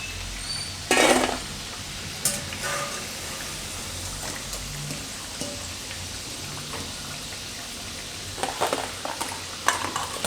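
Banana pieces frying in hot oil for Gujarati dum kela shaak, a steady soft sizzle broken by a few brief louder clatters and stirring scrapes, with no talking.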